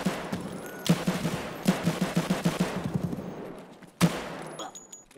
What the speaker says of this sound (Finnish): Mä ammun parkkihallissa.